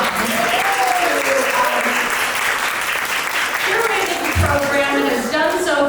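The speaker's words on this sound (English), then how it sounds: "the person who pulled this event together, who we have to give a round of applause right now, is Tasha Young." A crowd applauds steadily throughout at a Juneteenth event, with a voice speaking over the clapping.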